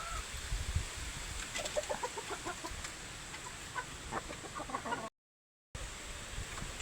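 Laguna Pumpkin breeding hens cluck softly in scattered, irregular bursts, quiet and somewhat distant, with a brief gap of silence near the end.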